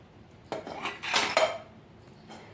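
A spoon scrapes and clatters against a metal pan while okra stuffing for bhindi sabzi is mixed, a few close, uneven strokes bunched in the middle, with no talking.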